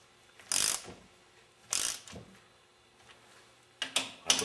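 A ratcheting torque wrench tightens bolts on a Meyer E-60 snowplow pump during a rebuild, giving three separate close bursts of rapid clicking with short quiet pauses between them.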